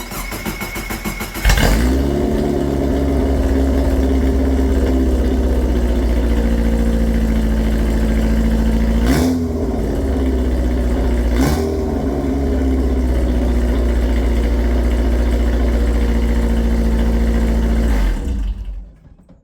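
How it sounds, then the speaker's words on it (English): Subaru engine swapped into a Volkswagen Beetle, running a straight pipe with no exhaust, fires up loud and close, then holds a rough, throaty idle broken by two sharp revs before it cuts off. "we got the exhaust off, so this is just a straight pipe now"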